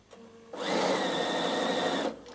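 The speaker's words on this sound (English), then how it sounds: "make sure that you're not sewing on your garment. Pull it down as you go." A Bernina sewing machine stitches fabric in one steady motorized run of about a second and a half, close and fairly quiet, with a soft whir before and after.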